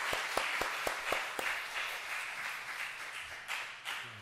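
A church congregation claps to welcome two families at a Sunday morning service, opening with several sharp, distinct claps before settling into softer, scattered applause that tapers off.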